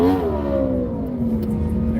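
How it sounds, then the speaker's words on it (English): A car engine revs hard against its rev limiter at a street gathering with loud music, a steady buzzing drone whose pitch sags slightly, heard from a short distance. "Somebody's like hitting the rev limiter."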